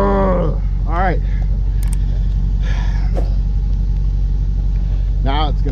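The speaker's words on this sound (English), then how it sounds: "getting fucking wheel spin from all four fucking tires" A brand-new Range Rover Sport stuck off-road, its engine rumbling steadily as all four tires spin; someone speaks over it in bursts throughout.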